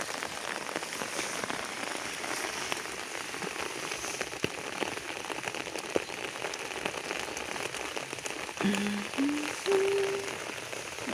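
Rain falls steadily on an umbrella outdoors during a spring mushroom hunt, with a constant dense patter near the listener and a few brief low tones near the end.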